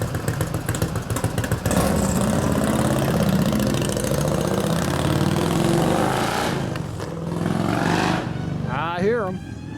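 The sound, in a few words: Harley-Davidson panhead 93ci stroker motorcycle engine idling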